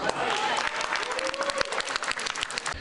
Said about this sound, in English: Gwen's backers cheering whenever she appeared in the 2-hour telecast.